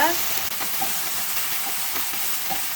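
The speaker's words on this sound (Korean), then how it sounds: "마늘향이 골고루 입도록 가지를 볶아줄게요" Eggplant stir-frying in garlic oil for an eggplant tofu rice bowl, a loud, steady hissing sizzle with a few soft scrapes and stirring clicks, close up and continuous, with no voices.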